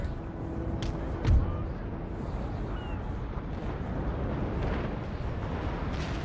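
Rockets burst in midair during a naval battle in Empire: Total War, a single muffled boom rising briefly over a steady low rumble of battle ambience.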